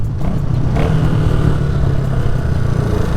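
A Suzuki Van Van 200 motorcycle engine runs steadily while being ridden, a loud, close, continuous low drone with a slight rise in revs and wind rumble mixed in.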